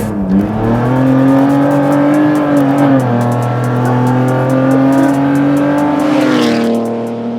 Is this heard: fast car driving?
yes